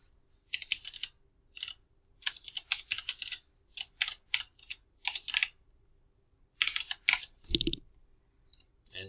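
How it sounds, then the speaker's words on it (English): Typing on a computer keyboard in bursts of quick key clicks with short pauses between, close and clear, one louder thump near the end. "So I'm just going to type it in."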